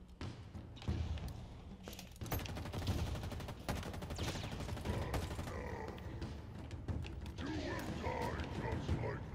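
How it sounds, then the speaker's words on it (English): Gunfire in the Halo Infinite video game, with dense rapid bursts and mechanical clatter over a busy game mix, sometimes with voices underneath. "I guess I'll just shoot you in the face."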